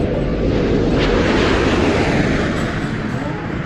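Space Shuttle Atlantis landing on a runway, a loud, steady, broadband roar that holds from start to finish.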